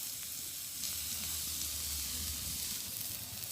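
Onions frying in a pan give a steady, close hiss and sizzle with faint low bubbling underneath, continuous and fairly quiet.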